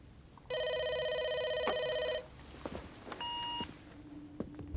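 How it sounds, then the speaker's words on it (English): A telephone rings with an incoming call: a loud, steady electronic ring tone lasting about two seconds, followed by a shorter, quieter ring tone a moment later amid faint room noise. "there's an incoming phone call from Washington, D.C."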